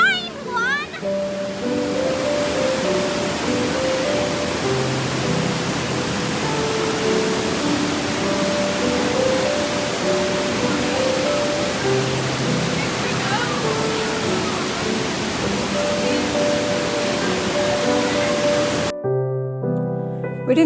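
Watkins Glen waterfall roars in a dense, unbroken wash of rushing water, loud and close, with faint voices or tones drifting over it before the sound cuts off abruptly near the end.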